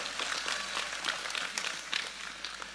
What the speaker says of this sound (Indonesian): tepuk sing banter gak usah sungkan